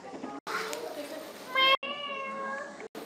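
A cat lets out a drawn-out, wavering meow, clear and close, with spoken voices before and after it.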